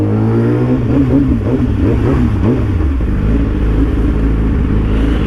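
A Harley-style motorcycle engine rumbles past on a city road, a loud, steady low throb with a wavering pitch that flattens out toward the end.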